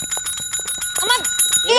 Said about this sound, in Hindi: थाने का घंटी है वो, मंदिर का घंटा नहीं है कि आप बार बार बजाएंगी